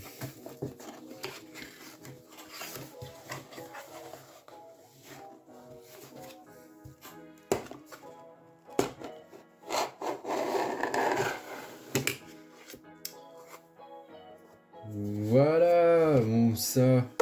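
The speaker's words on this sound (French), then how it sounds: "Si jamais tu veux t'acheter une GoPro, tu sauras que le carton s'ouvre par le dessous." A GoPro cardboard box is opened from the bottom, giving scraping, rubbing and tearing cardboard sounds with sharp knocks, close and fairly quiet, ending in a brief tonal squeal.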